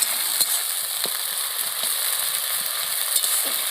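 Fried fish pieces and spices sautéing in a hot wok, a loud, continuous sizzle with occasional sharper crackles and spits, heard close and alone.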